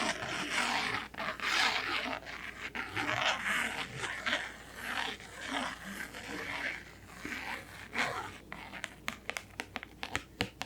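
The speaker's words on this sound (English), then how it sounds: "scratching." Fingernails scratch across the surfaces of new tarot card decks in close, quiet bursts with soft rustling, ending in a run of sharp clicks and taps.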